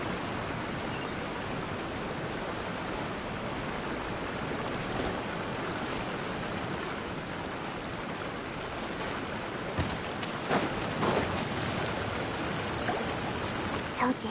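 A waterfall in the Genshin Impact video game, a steady broadband rush of falling water filling the whole scene at even loudness, with a few brighter splashes and clatters rising near the end.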